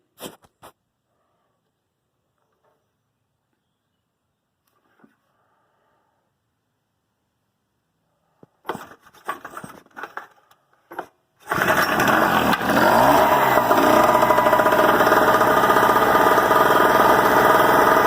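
After near silence and a few clattering handling noises, a Harbor Freight Tailgator portable generator catches on one pull and settles into a steady, loud, droning idle.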